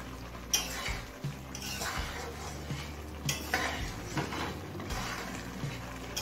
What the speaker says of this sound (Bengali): গরম মশলা দিয়ে মিশিয়ে নিলাম।